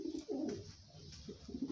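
Racing pigeons cooing inside a dark loft, sitting on plastic eggs while being readied for a 550 km race; soft, overlapping low coos repeat steadily at close range.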